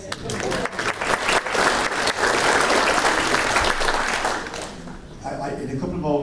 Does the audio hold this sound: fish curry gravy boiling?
no